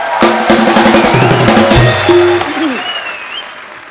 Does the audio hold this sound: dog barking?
no